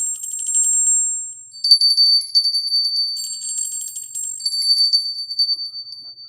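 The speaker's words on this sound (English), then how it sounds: "this has got a taller bell, and it's a wider bell" A taller, wider bell is rung in several bursts of bright, high, ringing metallic tones with rapid trilling strikes, close and clear, each burst lingering briefly before the next.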